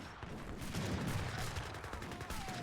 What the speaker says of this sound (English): the Gatling guns are still alive.